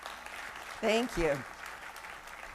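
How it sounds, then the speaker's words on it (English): A college audience at a State of the College address applauds: soft, steady clapping in the background, with a speaker briefly talking over it partway through. "you're applauding each other because it's your support that made that happen"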